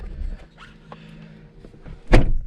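A heavy car door on a Nissan 350Z swings shut with a single loud, solid thunk near the end, after a stretch of quiet cabin rustling.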